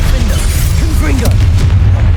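Confringo blasting spell explosions in the video game Hogwarts Legacy, a loud continuous barrage of booming low blasts with crackling bursts layered throughout.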